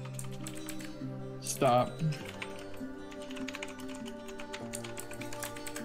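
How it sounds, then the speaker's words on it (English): Computer keyboard typing in a room, a steady patter of keystrokes running under casual conversation and a brief spoken interjection, with a short louder burst of voice partway through. "you were typing"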